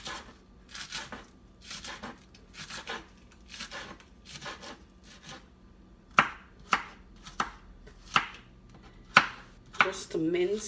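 A knife chops and minces ingredients on a cutting board, first with softer rhythmic strokes and then with sharper, louder single chops near the end, all heard up close.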